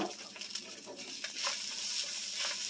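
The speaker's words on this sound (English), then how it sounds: "so you get all your rice in here and toss it and stir it until it gets coated with the oil" Cold leftover rice tossed and stirred in hot oil in a pan for pork fried rice, a soft continuous sizzle broken by scraping bursts of stirring, heard close up without speech.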